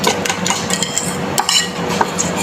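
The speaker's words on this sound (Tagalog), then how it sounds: "Yan, haluin lang ng mabuti." A utensil clinks and scrapes against a bowl while an egg and malunggay mixture with crushed black pepper is stirred, the busy close tapping repeating irregularly throughout.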